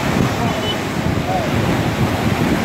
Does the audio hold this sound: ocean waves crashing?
yes